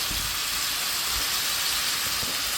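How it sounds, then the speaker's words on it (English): Continuous bright hissing and crackling of food frying in butter and oil in a hot pan, steady and close with no voices. "You hear that sizzle?"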